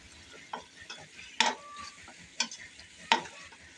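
Beef and masala frying in a pan before the spinach is added, a soft sizzle under a few loud scraping stirs of a spoon against the pan, close and without talk.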